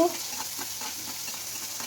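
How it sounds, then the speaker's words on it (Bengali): Chilies frying in hot oil give a steady close sizzle with faint stirring, no talk over it. "আবার তেলের মধ্যে দিয়ে দিলাম এই যে মরিচগুলো"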